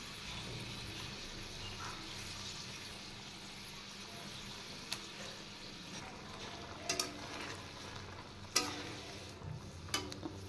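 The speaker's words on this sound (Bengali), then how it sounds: "ভেজে রাখা মাছগুলো দিয়ে দিচ্ছি।" Fried catla fish pieces go into a pan of spiced gravy with a little added water and cook, giving a steady close sizzle with a few sharp clinks and pops.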